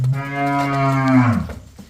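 A single loud, drawn-out cow moo, low and resonant, rising briefly then trailing off, heard close and alone.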